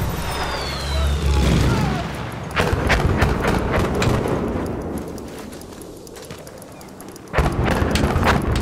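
A loud grenade blast in the Battlefield 1 battle game, a heavy boom with rumbling debris that fades into distant gunfire, then a second sharp burst near the end, with voices calling out beneath.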